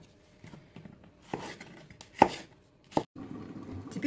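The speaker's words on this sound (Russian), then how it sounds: "И теперь нам перчик нужно нарезать." A knife slices a bell pepper into long strips on a board, giving a few sharp, irregular chops and thuds with quieter rustling between them, close and fairly soft, with no talking.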